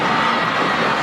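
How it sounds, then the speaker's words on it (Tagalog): A volleyball arena crowd roars and cheers loudly and steadily after a service ace in a PVL Open Conference semifinal, a dense, sustained wall of voices and shouts with no pause. "the crowd is loving what they are seeing right now"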